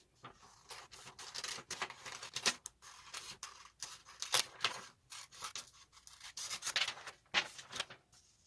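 Scissors snip a strip of fabric for a handmade cupcake pincushion, with repeated close, crisp cutting strokes in a steady irregular rhythm and no voices.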